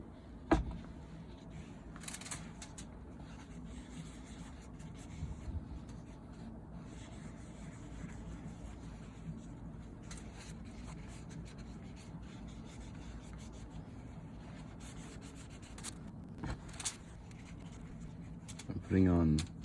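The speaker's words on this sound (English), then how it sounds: "I'm going to put on lemon oil." Paper towel rubbing lemon oil over a carved wooden cat figure, a steady soft scrubbing swish running close and continuous throughout with a few sharper scuffs.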